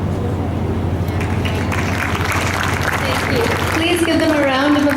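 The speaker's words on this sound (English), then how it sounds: "Please give them a round of applause." Audience applause at a Ladies Fund LEC 2013 stage event, a steady wash of clapping throughout, with a sustained low hum and some tonal sound rising toward the end.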